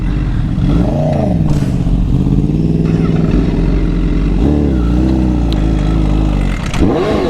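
A Honda CBR1000RR sport motorcycle engine revs loudly and close, its pitch rising and falling in repeated swells before a sharp final blip.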